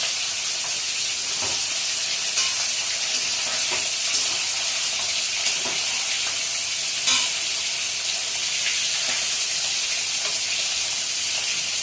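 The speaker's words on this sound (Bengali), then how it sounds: "তেলটা গরম হয়ে গেলে মাঝে মাঝে ভেজে নিতে হবে।" Food fries in hot oil with a constant hissing sizzle, joined now and then by soft stirring knocks, close and steady for the whole stretch.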